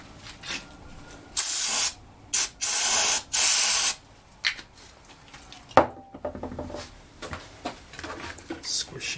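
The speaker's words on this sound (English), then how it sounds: "I want to spray some brake parts cleaner in here" Brake parts cleaner spraying into a GTI 15T engine part in repeated loud hissing bursts of about half a second to a second each, separated by pauses, with fainter clicks and handling noises between.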